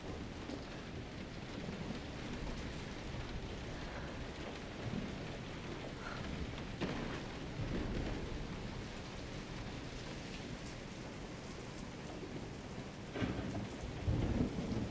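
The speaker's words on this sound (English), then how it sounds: "And it's raining out." Steady rain pours with rolling thunder in the horror game Resident Evil 7, a dense, even hiss of rainfall and low rumbles that sit in the background throughout without any voice.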